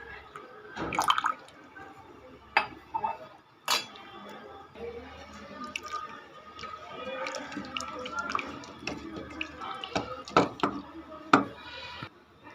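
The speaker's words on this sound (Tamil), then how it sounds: "ஆல்ரெடி எடுத்து வச்சுருக்க பருப்பு தண்ணி சேர்த்துக்குங்க." Cooked lentil water is poured into a pumpkin dish, giving soft splashing and dripping with scattered light clinks of utensils, while someone talks quietly.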